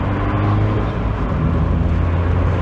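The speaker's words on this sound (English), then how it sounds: "So I've got quite a noisy exhaust, not that noisy, in my little MX-5." A little Mazda MX-5 with a fairly noisy aftermarket-style exhaust drones steadily while driving, a loud, continuous low engine rumble mixed with road and wind noise and no talk over it.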